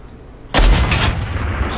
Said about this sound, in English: Here, I want to shoot a cannon.